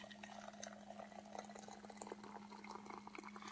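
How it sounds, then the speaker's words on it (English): Hot water poured into a small personal teapot for fireweed tea, a steady soft liquid pour with gentle bubbling and trickling, close and fairly quiet throughout with a faint low hum underneath. "So I have some hot water that I'm just gonna pour right into"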